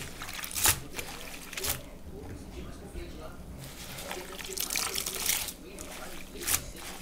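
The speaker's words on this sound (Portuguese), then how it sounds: "Mergulha o caminho de mesa." A crochet table runner is dipped into cooled cornstarch starch water, giving soft sloshing and dripping sounds at close range, with splashy bursts and someone speaking over them.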